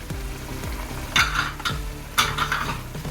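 Ground spices, salt, dried coriander, turmeric and chilli frying in a pan for beef kofta, a low sizzle under repeated stirring scrapes and two clattering utensil strikes against the pan, close by and alone.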